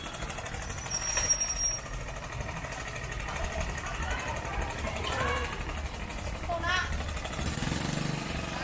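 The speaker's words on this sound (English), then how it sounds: "I have to keep moving out of the way for motorbikes." Motorbike engines putter and buzz past in a busy street market in Cambodia, steady traffic noise with voices and crowd chatter mixed in throughout.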